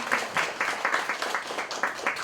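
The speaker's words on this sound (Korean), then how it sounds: "우리 간사님께 감사의 박수 드리겠습니다." A church teachers' seminar audience claps in thanks for a staff member, a short burst of fairly loud group applause with a steady, slightly rhythmic pulse of many hands.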